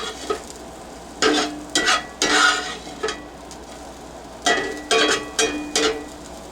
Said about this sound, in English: I just want to get that garlic to start cooking a little bit.